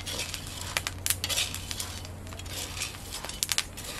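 Green coffee beans roasting in a pan give off scattered sharp pops and crackles, some close and bright, with a low steady hum running beneath.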